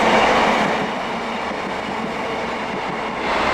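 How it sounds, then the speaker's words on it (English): A train rumbles steadily past a station platform at close range, a broad continuous roar with a faint rhythmic clatter of wheels on track, on the Hope Valley Line. "What there is, are many trains going past."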